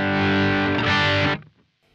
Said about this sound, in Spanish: Vamos a ver cómo responde un poco con distorsión.